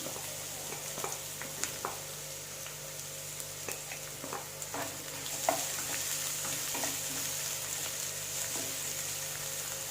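Green chillies and onions sautéing in hot oil for a Kerala tomato drumstick curry, a steady close sizzle with scattered crackles and occasional spoon scrapes against the pan, no talking.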